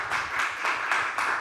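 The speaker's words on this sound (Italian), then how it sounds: "un bel applauso" Audience applauding musicians at a Sardinian show, rhythmic clapping in regular surging pulses, fairly loud and close with no talk over it.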